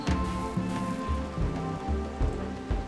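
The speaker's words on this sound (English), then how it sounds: "Pissing it down with rain." Steady rain pours down in the colony-building video game RimWorld, a soft continuous patter with a low repeating musical tone pulsing underneath, no voices.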